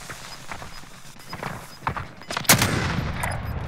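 Gunfire in Call of Duty Warzone, a rapid series of sharp shots and bursts at varying distances, capped by a loud close blast followed by a sustained noisy rumble.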